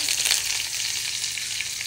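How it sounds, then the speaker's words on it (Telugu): Tempering of half a dried red chilli, chana dal, urad dal, mustard seeds and curry leaves frying in hot oil, a dense, loud, close hiss of sizzling throughout with no talk. "పోపు వేగింది."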